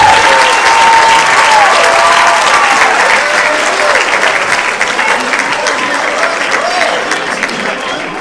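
An audience at a seniors' talent show applauds after an act, loud sustained clapping from a crowd that slowly eases over several seconds, with a voice speaking over it.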